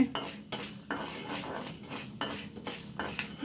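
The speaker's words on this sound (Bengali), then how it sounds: "ভুট্টাটা আগে তেলের উপর ভেজে নিচ্ছি।" Corn kernels in oil in a metal pan for popcorn are stirred and shaken, giving repeated close rattling, clattering taps against the pan over a soft frying hiss.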